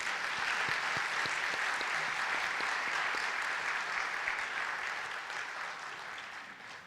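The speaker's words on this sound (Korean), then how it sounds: "인사하실 때 다시 한번 크게 박수해 주시기 바랍니다" A church congregation applauds during a Sunday worship service, steady crowd clapping heard from a distance that slowly tapers off over several seconds.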